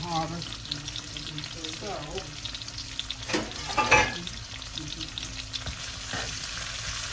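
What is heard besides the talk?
vegetables with carrots frying and being stirred in a pan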